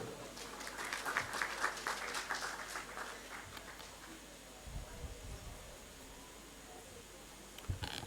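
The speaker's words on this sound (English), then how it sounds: "Please, a round of applause." Faint, distant applause from an audience at a formal diplomatic celebration, thinning out over several seconds into a quiet murmur and low background noise.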